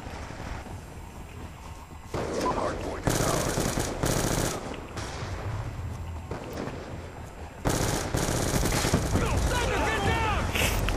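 Machine gun fire in the Black Ops 2 multiplayer shooter, with loud bursts of rapid automatic shots in several strings and short gaps between them. The gunfire starts fast, grows louder partway through and continues to the end.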